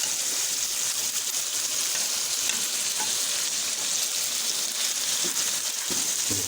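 Biryani masala with salt, red chili and turmeric fries hard in a pan, a dense, loud, continuous sizzle with faint stirring scrapes underneath and no talking.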